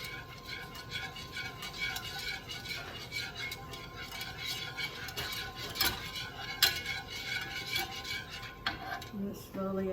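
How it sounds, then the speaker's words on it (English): A utensil stirs and scrapes in a pan as ingredients are slowly mixed into a fettuccine Alfredo sauce, with steady clinking and light scraping close up, alone. "We're gonna slowly mix that in."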